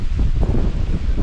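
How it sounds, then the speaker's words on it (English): Strong wind gusts buffet the microphone on a mountain trail in Grayson Highlands, Virginia, a steady loud low roar and rumble throughout with no speech. "Give you a little bit of an idea of the wind gusts."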